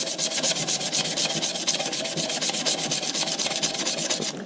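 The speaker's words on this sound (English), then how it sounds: "Sand along that way, and then I like to sand back across as well, just till we get it nice and smooth." Dense, steady rasping of sandpaper worked back and forth across a wood and resin pen blank, close and continuous with a fast rhythmic stroke pattern and no voices.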